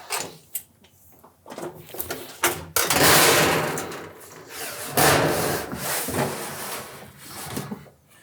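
Sheffield Metals detail flashing is bent on a Van Mark sheet-metal brake, giving sharp clacks followed by long, loud scraping and rubbing sweeps of metal sliding and folding, close by.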